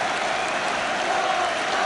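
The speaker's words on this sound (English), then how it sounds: "the crowd giving him a tremendous reception" Football crowd at a 1976–77 Spurs versus Everton match applauding a returning player, a dense, steady wash of clapping from a large stadium audience, loud and continuous throughout.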